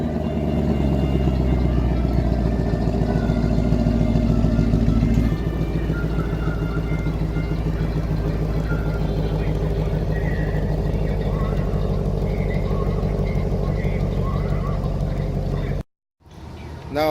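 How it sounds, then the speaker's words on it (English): A 2019 Chevrolet Camaro cold-starts by remote and settles into a loud, steady exhaust idle with a deep droning rumble. The idle drops a little after a few seconds, then cuts off briefly near the end. "And this is a cold startup using the remote."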